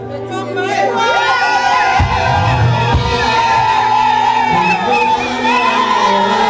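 Wedding guests cheer loudly as the groom unveils the bride, a dense crowd roar with shouts and whoops that swells midway and holds steady throughout, with voices mixed in.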